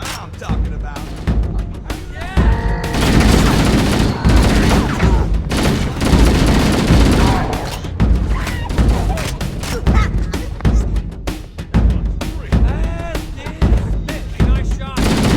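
Gunfire in the video game Halo CE Anniversary during a campaign mission: dense, loud bursts of shots and booming blasts come almost continuously, with voices audible amid the battle.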